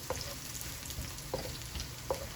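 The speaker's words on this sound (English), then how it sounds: "Onion and scallion caramelizing nicely." Onion and scallion frying in a pan, a steady soft sizzle with a few faint clicks of a utensil stirring, quiet and close.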